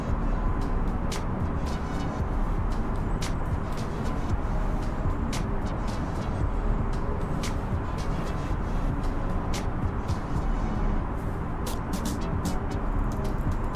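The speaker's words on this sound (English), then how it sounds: "Like, does this airplane sound loud, or is it just me?" An Airbus A320neo in Microsoft Flight Simulator 2020, an Austrian Airlines livery mod on an Istanbul to Vienna flight, gives a loud, unbroken engine drone, with faint clicks scattered over it.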